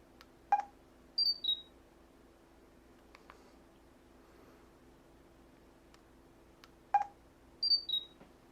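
Two identical electronic camera shutter sounds from a Pantech Pocket phone, each a sharp click followed by a pair of quick high beeps, separated by quiet with faint taps.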